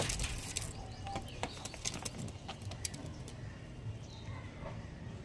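Pet pigeons kept for sale, heard as soft intermittent bird calls and cooing amid busy, cluttered background noise with scattered clicks and rustles, no clear talk.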